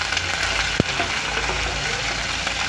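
Curry leaves, onions and green chillies frying in a pan for a raw banana stir-fry, a steady close sizzle with a single sharp tap partway through.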